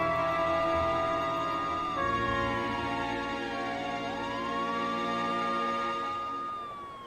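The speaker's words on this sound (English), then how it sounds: "the wail of sirens filled the air" Several sirens wail together at a fire, their pitches rising and falling slowly and overlapping, loud and steady throughout before fading slightly at the end.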